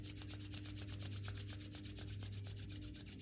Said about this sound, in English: we can rub the palms together to make the palms a little bit warm.